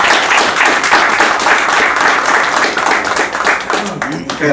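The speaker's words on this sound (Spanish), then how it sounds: "Un aplauso." A graduation gathering breaks into loud, close applause, a dense mass of clapping that continues steadily before a voice begins speaking near the end.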